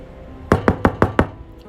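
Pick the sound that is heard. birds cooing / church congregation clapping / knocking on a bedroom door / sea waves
knocking on a bedroom door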